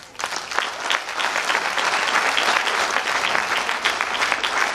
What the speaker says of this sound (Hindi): एक बार जोरदार तालियां दोस्तों।